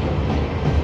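The Garib Nawaz Express, train 15715 between Kishanganj and Ajmer, passing on the rails as a loud, steady rumbling roar with a faint rhythmic clatter, heard close and alone.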